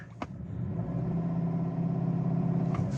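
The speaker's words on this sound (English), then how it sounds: "shift into reverse, floor it" A 2013 Subaru Outback engine rises to a sustained, strained roar and holds a steady low drone during a stall test in reverse with brakes held, reaching only about 2,000 RPM, with a faint click at the start.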